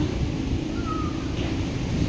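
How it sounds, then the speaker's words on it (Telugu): Steady blustery wind roaring across the microphone, a continuous low rumble that swells slightly without pause. "అది మళ్ళీ మళ్ళీ వస్తుంది గాలి వస్తుంది"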